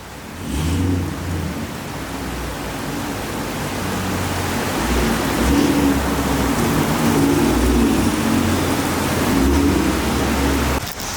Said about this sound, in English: it is raining so freaking hard